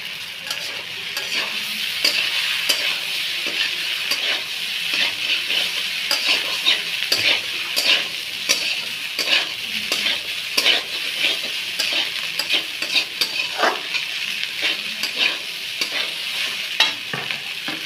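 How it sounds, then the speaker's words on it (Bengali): Pasta being stirred into a fried mixture in a frying pan for a shrimp pasta dish, with steady close sizzling and repeated scraping strokes of a utensil throughout. "এখন আমরা এর মধ্যে দিয়ে দেবো পাস্তা। এবার আমরা ভালো করে একটু নেড়ে নেব।"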